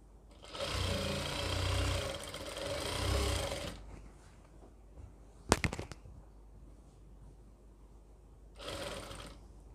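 A sewing machine runs in two long, even stitching bursts along an Afghani salwar seam, then a sharp clack follows, and a final short burst of stitching ends the stretch.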